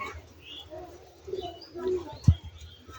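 Soft, low coos from Rajshahi Giribaj pigeons close by, with a short, stronger coo and a faint chirp heard over quiet background murmuring.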